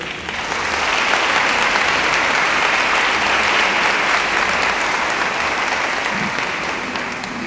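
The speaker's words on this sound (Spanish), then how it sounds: "brindemos un fuerte aplauso a todos los participantes que estuvieron acá." Sustained applause from a crowd, loud and steady from start to finish with no voices breaking through.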